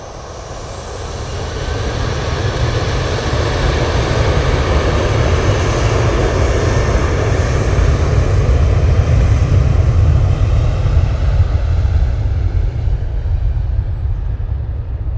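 Airliner taking off from Manchester Airport bound for Tangier, a loud, steady jet engine roar swelling in over the first two seconds and holding strong, broad and close, with no voices.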